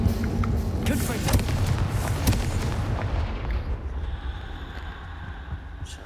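A Confringo explosive spell blast in Hogwarts Legacy, a dense booming burst of game explosions and crackling impacts for about three seconds, then a rumbling decay into quieter ambience.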